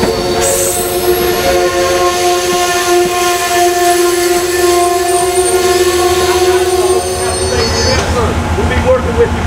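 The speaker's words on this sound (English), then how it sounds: "got an Amtrak 90 heading out of Florence, heading for New York with a clear signal." An Amtrak 90 passenger train departs Florence station in South Carolina, heading for New York. A loud, close, continuous rumble of wheels and cars rolls past with high metallic squealing tones throughout.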